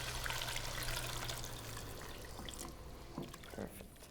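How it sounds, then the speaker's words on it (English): Liquid mixed with bouillon is poured slowly into a white sauce roux, giving a soft continuous trickle and splash close by, with light kitchen clatter near the end. "And then slowly pour this into the white sauce or the roux."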